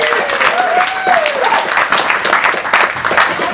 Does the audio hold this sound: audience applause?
yes